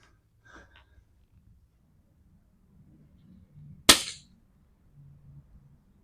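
A single sharp, short crack from an AirArms FTP900 PCP air rifle firing a pellet, fairly close and quiet overall, with faint breathing and soft shuffling around it.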